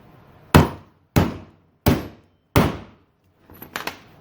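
Four sharp, evenly spaced hammer blows on a part of a restored 1940s Lincoln garden tractor, then a quick cluster of lighter taps, loud and close.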